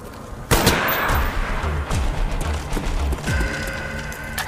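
Heavy weapon fire rattles through a Call of Duty: Black Ops match, with a sharp burst opening into a dense, continuous stream of rapid shots and booming impacts that stays loud from start to finish.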